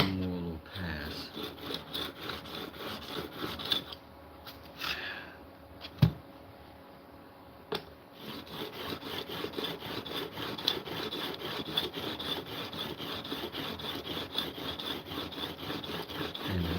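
Japanese plane blade rubbed back and forth on a sharpening stone, a close rhythmic scraping in steady strokes with a short pause midway, then resuming at a quicker pace.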